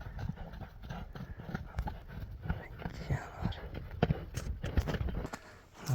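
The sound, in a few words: Kyrgyz horse, hooves clip-clopping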